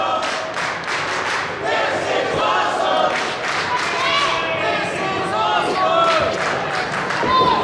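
Loud wrestling arena crowd chanting and roaring in rhythmic bursts with scattered cheers during a Nick Gage versus Darby Allin match.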